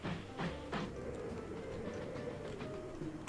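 Coal trains running in the Mashinky video game, a steady rolling rumble with a few soft clattering bursts near the start, continuous and fairly faint throughout.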